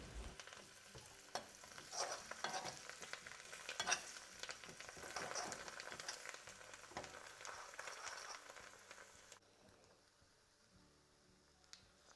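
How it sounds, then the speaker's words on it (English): Chopped coriander is stirred through a hot chilli garlic tadka for dal, giving a steady sizzle with scraping stir strokes for several seconds before the sound drops away to near quiet. "As soon as you add the coriander, turn the heat off and then just stir it through"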